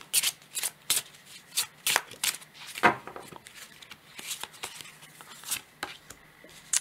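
Cards shuffled by hand for a tarot-style card reading, a series of crisp riffling bursts in an irregular rhythm, close and fairly quiet, with no talking.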